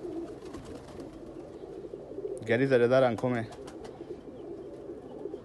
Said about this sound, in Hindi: ये मेन ब्रीडर कबूतर है